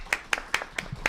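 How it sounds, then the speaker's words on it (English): A handful of sharp, evenly spaced claps ring out at a press conference as a new client is welcomed to the stage, five distinct hits in about a second, fairly faint and without talk. "Please join me in a round of applause for Peyton Cuccia."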